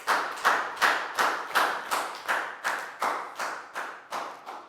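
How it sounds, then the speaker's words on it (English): A primary classroom of children claps in unison, about a dozen sharp rhythmic beats in a steady pulse, each one loud and close and fading quickly, with no talking over it. "High five and a big round of applause for Dan,"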